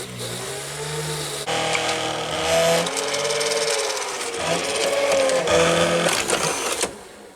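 A broken Quasar VH5471-K VCR runs with a worn gear idler, giving a continuous mechanical whir and rumble with shifting tones and brief changes in pitch, fairly loud and close, with no voices.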